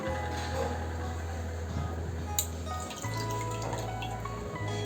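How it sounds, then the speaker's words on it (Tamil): Half a lemon is squeezed by hand and the juice trickles and drips in a soft, uneven patter, close and quiet, over a steady low background hum. "அரை லெமன் எடுத்து வச்சுருக்கேன். இதை புழிஞ்சு எடுத்துக்கலாம்."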